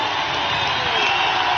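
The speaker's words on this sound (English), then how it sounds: "here's Vrabel amidst the standing ovation from the crowd" A stadium crowd roars and cheers continuously in a standing ovation for Tennessee Titans coach Mike Vrabel, a dense, loud wash of voices and applause without a break.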